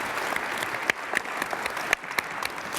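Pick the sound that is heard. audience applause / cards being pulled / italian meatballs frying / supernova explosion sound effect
audience applause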